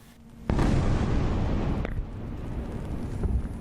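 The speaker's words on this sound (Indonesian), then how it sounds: "Sejumlah ledakan terdengar dan beberapa kilatan cahaya terlihat dalam video yang direkam di wilayah kota Gaza" A sudden heavy boom bursts out over Gaza City and rolls into a long rumbling roar, with a second sharp crack partway through and no voices.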